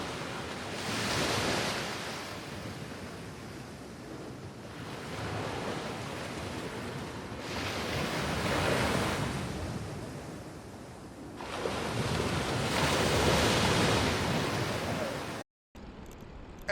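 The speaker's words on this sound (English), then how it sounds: "Let's listen to some of the waves." Ocean surf recorded from a pier on an Insta360 Mic Pro without noise canceling: waves surge and wash in slow, broad swells every few seconds, with constant wind-tinged hiss and a short dropout near the end.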